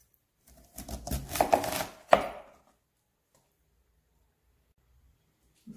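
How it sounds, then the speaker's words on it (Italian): A knife chops fennel into thick slices on a board, a quick cluster of crisp, close cuts ending in one sharper chop, followed by quiet. "Tagliamo il finocchio a fette spesse e le mettiamo nell'acqua acidulata."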